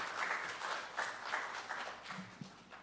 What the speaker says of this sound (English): So give her a big clap